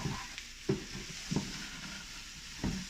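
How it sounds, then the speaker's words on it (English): A spoon stirs rice with garlic, thyme, onions, saffron and black pepper in a hot pan, with soft sizzling under a few distinct scraping strokes spaced about a second apart. "Stir everything together."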